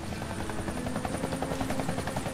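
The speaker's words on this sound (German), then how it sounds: "Da ist ein Hubschrauber. Ich höre ihn." A helicopter in the video game Deadlight gives off a steady, continuous rotor drone with a rhythmic chop. It sounds fairly close and fills the whole stretch with no talk over it.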